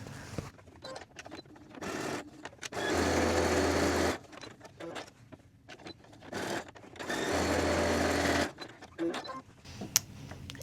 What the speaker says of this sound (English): I'm gonna stitch here